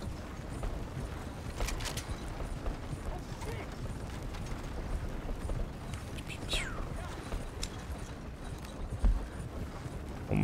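Horse hooves clip-clop steadily in the Western video game Red Dead Online, with mechanical clicks and ambient noise running throughout and a faint voice now and then.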